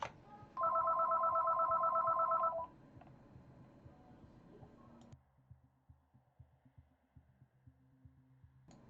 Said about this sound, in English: Somebody pick up the phone, please.